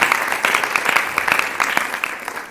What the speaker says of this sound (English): So a hand of applause for everyone.